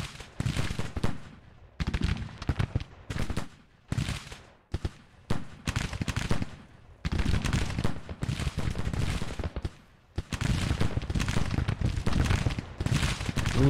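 Battle in the Civil War strategy game Grand Tactician, with rapid bursts of musket gunfire and booming artillery in dense volleys broken by brief pauses, loud and continuous.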